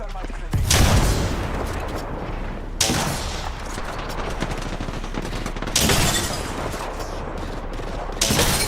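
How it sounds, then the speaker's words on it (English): Video game combat with a thermite grenade thrown: loud bursts of rapid gunfire and explosive booms in several dense waves, with short lulls between them. "Frag grenade set. Throwing thermite grenade."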